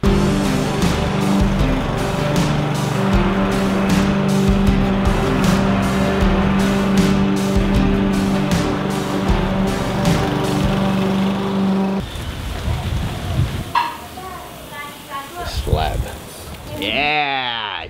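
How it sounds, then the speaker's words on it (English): A lawn mower drones steadily and loudly for about twelve seconds while a lawn is mowed, then cuts out, leaving rustling, brief voices and a short whistling tone near the end. "I'm gonna mow his lawn."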